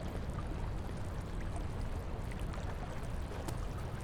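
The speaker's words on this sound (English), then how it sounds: "Oh, water." Flowing water in the horror game Amnesia: The Dark Descent, a steady broadband rush that runs without break at an even level throughout.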